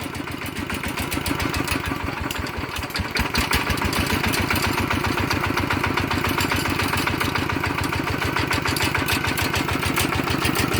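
A Kubota ET 80 diesel engine, upgraded to RT 90 specification and fitted with new bearings, runs steadily at a smooth, even idle, its rapid regular chugging loud and close throughout with no talk.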